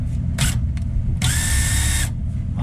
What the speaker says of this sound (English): the shank of the drill bit is spinning, the drill bit is not